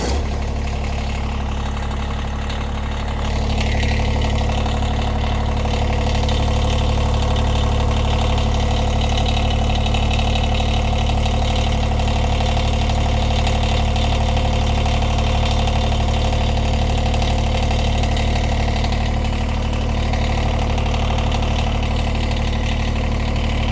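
A Kubota BX1880 compact tractor with about 43 hours on it starts and settles into a steady, loud diesel idle, a low throbbing rumble that runs on without change and without talk.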